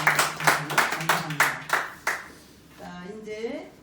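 An audience at a Korean Christian social development association year-end gathering claps in a brisk, rhythmic run of loud claps that stops abruptly, followed by a voice speaking.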